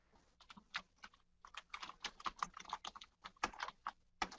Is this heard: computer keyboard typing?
yes